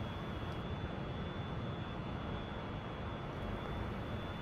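Su-27 jet engine roaring at takeoff in the DCS flight simulator, a loud, steady broadband rumble with a thin high whine running throughout, no voices.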